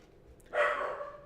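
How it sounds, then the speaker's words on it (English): A single dog barks indoors in a home. One bark, fairly faint and slightly distant, follows a brief quiet lead-in and then trails off, with no voices. "Sorry, the dog's barking. He thinks he hears something and never does."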